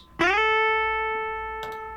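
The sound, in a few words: lead electric guitar without double tracking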